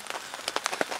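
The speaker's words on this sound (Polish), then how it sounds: "Obudził nas mega deszcz" Heavy rain at an old gravel pit fishing lake, a close, dense patter of drops striking a surface in uneven bursts, with no voices.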